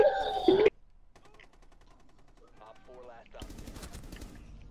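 A loud burst of automatic gunfire opens a Rainbow Six Siege match and then cuts off, leaving quieter in-game noises and distant clatter, with a voice briefly speaking later on.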